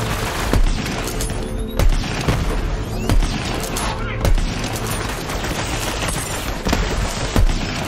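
Rapid gunfire from Borderlands 3 rattles on steadily, with heavier booming shots landing every second or so over dense combat noise, loud and close, as someone talks over it.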